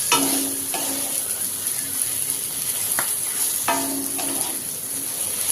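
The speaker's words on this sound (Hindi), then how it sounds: "और सारी चीज़ों को डालकर अच्छे से चलाते हुए भून लेंगे।" Okra frying with salt and spices in a kadhai, a constant bright sizzle with a few sharp spoon scrapes and taps against the pan as it is stirred, close and steady.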